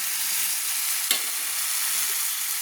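Boiled-then-fried eggs being stirred with spices, potol and potato in a pan for an egg potol curry: a steady, even sizzle with one brief scrape of the spatula partway through.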